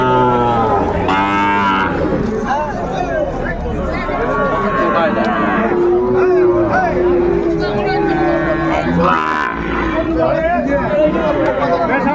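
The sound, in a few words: Sahiwal bull calves mooing at cattle market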